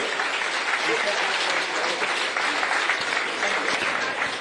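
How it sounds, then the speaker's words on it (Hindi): An audience gives dense, sustained applause for a student honoured at a school merit ceremony, the clapping loud and unbroken throughout. "जोरदार तालियों के साथ सम्मान करेंगे"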